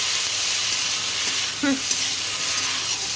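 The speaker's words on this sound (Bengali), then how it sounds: "এবার এটা দিয়ে এখন ভালো করে নাড়াবো" Pasta cooking in a hot pan gives off a constant bright sizzle and hiss, with a brief scrape of stirring partway through, steady and close.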